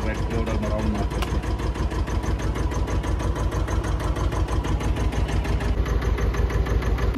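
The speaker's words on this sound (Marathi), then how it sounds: "बघू आता राऊंड ट्रॅक्टर राईड एवढं राऊंड मारते" A farm tractor's engine chugs in a steady, loud, rhythmic beat during a round-trip ride in the fields, running throughout with a few brief higher tones early on and no clear speech.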